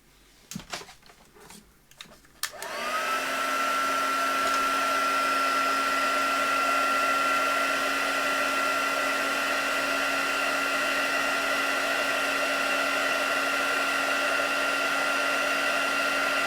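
A handheld heat or drying tool blows onto painted craft pieces, starting after a few brief knocks and then holding a steady, loud whirring hiss with a faint high whine. No one talks over it.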